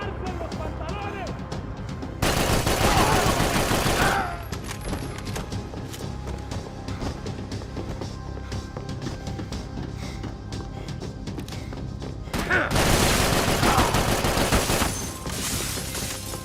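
Heavy bursts of gunfire from the video game Max Payne 3, two long loud volleys a few seconds each with a steadier din of shots and game sound between, and voices heard at times.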